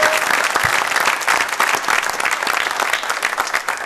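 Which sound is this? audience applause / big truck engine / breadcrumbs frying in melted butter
audience applause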